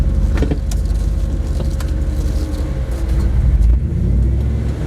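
A VWerks Recon JK-8 Jeep reverses nearby at an off-road trail day, its engine droning loud and steady with a slight rise in revs near the end.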